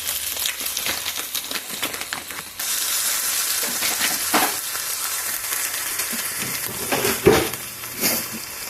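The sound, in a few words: cod fish placed in a hot pan, sizzling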